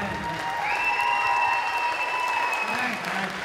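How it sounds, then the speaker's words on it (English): Steady concert audience applause for the band at an Idol-style show, a continuous crowd of clapping hands with a faint tone and murmur mixed in underneath. "Another round of applause for the band."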